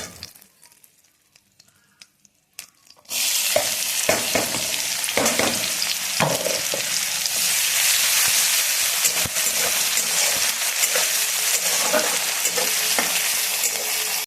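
Loud, steady sizzling of onion and garlic frying in a hot pan, starting abruptly after a few quiet seconds and continuing with occasional stirring clatter.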